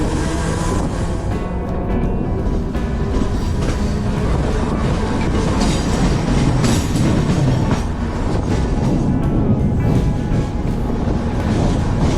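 A train departing Virar rolls steadily nearby with a continuous loud rumble and rhythmic clatter of wheels on track, no voices.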